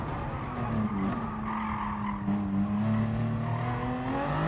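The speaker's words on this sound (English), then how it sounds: "Watch the wheel spin on FR cars going out of there." Rear-wheel-drive race car in Gran Turismo Sport spinning its wheels out of a corner, a sustained tire squeal and skid riding over a loud, steady engine drone with no talking.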